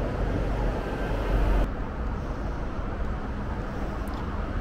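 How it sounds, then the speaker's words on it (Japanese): Steady traffic noise from National Route 2, a busy trunk road beside a parking lot near a railway station, a continuous broadband roar of passing cars at moderate distance with no voices. "列車が来ないときは静かですが、車の音はします。"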